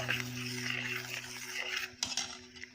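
A spoon clinks and scrapes softly in a pot as custard powder is stirred into milk. The quiet stirring carries over a steady background hum, with a few sharper metallic taps near the end and no talking.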